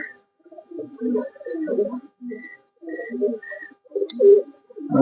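Pigeons coo in a bird house, giving soft, repeated coos in short phrases with brief pauses between them, fairly close and with no talking.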